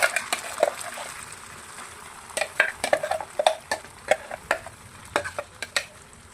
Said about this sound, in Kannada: ಈಗ ಇದನ್ನು ಚೆನ್ನಾಗಿ ಎಣ್ಣೆಲಿ ಸ್ವಲ್ಪ ಫ್ರೈ ಮಾಡ್ಕೊಳ್ತೀನಿ.